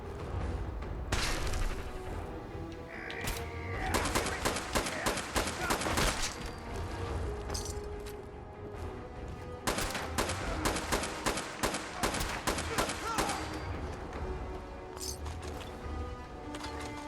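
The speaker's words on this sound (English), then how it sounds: "Things are exploding." Explosions and gunfire in Fallout 4, a dense run of rapid sharp bangs and bursts over a loud, busy game soundscape, pausing briefly mid-way before another heavy volley.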